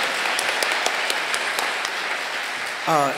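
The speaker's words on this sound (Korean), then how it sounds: "우리 은혜의 말씀을 주신 우리 목사님에게 다시 한번 뜨거운 박수를 부탁드리겠습니다." A church congregation at a New Year blessing and fasting revival service gives the pastor a warm round of applause, dense clapping filling the hall before a voice begins speaking at the end.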